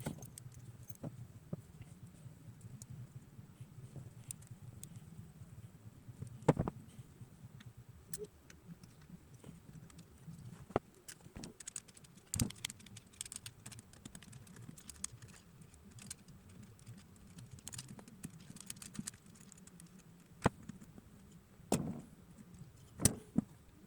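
Small metal valve spring keepers being fitted onto the valves of a mini bike engine, a run of faint, scattered light clicks and ticks with a few sharper taps, no talking.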